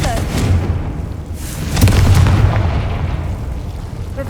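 In Hogwarts Legacy, the Confringo fire spell goes off in a deep booming blast partway through, set against the rumbling ambience of game combat.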